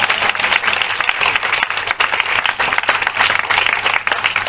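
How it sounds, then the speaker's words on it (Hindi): Loud, sustained applause from a student audience at a Hindi-language event, a thick wash of many hands clapping continuously throughout, fairly close and dense with no pause. "एक बार अपने लिए आप जोरदार तालियां बजाइए।"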